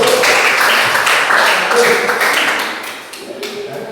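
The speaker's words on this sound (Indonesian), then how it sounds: "tepuk tangan untuk nomor 1" A class of schoolchildren claps for the answer to question number one, a dense burst of rapid hand-claps mixed with chattering young voices that thins out toward the end.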